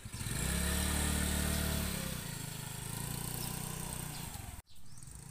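A motorcycle passes along a road in Sugod, running loud and close with a steady engine drone, then dropping in pitch as it moves away and cutting off abruptly near the end.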